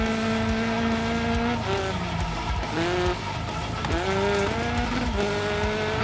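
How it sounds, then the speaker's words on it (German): A damaged rally car engine in DiRT Rally 2.0 drones loudly with rough harmonic tones, its revs repeatedly dropping and rising between gear changes, with occasional tire scrubbing underneath. "Aber der Motor klingt auch nicht gerade gesund."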